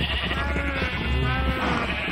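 Sheep bleat repeatedly in modded Minecraft 1.7.10, a steady, busy chorus, fairly loud and close, with no talking.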